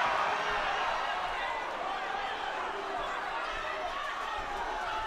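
Loud crowd roaring continuously at a karate final, a dense wash of cheering and chatter that stays steady and close throughout.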